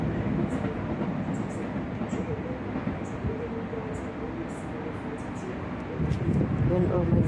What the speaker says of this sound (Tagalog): Yun ang train. Yung may ilaw kung tumatakbo ng ano, ilaw yan, ang train.